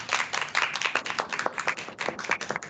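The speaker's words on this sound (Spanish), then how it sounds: "Un aplauso a todos los que estamos aquí." Audience clapping at a university congress, a dense burst of many hands applauding close and fairly loud for a few seconds.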